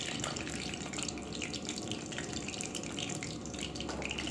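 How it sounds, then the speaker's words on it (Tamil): Mustard seeds splutter in hot oil in a pan for a Tamil dried anchovy and field bean curry, a steady close sizzle dotted with quick crackling pops. "கடுகு நல்லா பொறிஞ்சு வந்ததும்"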